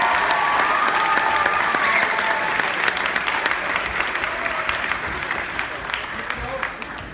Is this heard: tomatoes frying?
no